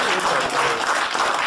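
A room of guests at a birthday celebration claps in steady, close applause for a father and his godson. The clapping is dense and even across the whole short moment.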